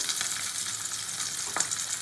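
Bata fish fry crisp in hot oil, giving a steady, close sizzle with a faint crackle throughout and a brief scrape of stirring near the end. No one speaks.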